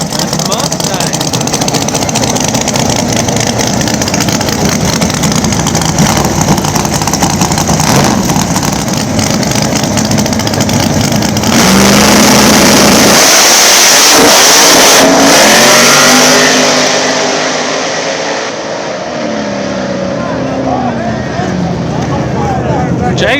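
Drag radial race cars, a boosted Camaro against a nitrous Mustang, roar loudly and steadily as engines rev and accelerate down the strip, with an announcer talking over the din and the noise fading toward the end.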